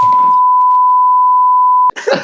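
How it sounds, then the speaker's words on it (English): A censor bleep cuts in over speech during a podcast chat, one loud steady pure tone lasting nearly two seconds, then stopping abruptly as talking resumes. "And then just beeped it."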